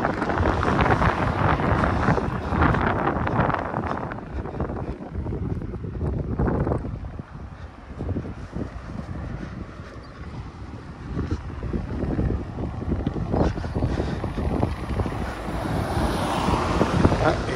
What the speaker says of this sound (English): It's now windy.